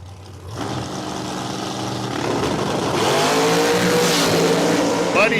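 Turbocharged dragster launching down a drag strip, a loud engine roar building as it accelerates away, with a commentator talking over it.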